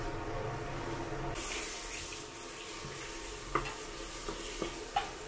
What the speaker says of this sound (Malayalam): ആ മസാലയുടെ പച്ചമണമൊക്കെ മാറി എണ്ണ തെളിയുന്നത് വരെ നമുക്ക് ഇത് ഇളക്കിക്കൊണ്ടിരിക്കണം.